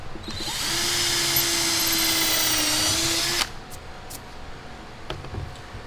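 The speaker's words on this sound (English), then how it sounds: "I need to drill here." A power drill boring into the side panel of a Ricmotech RS1 sim rig, running loud and steady for about three seconds, then stopping, followed by faint handling clatter.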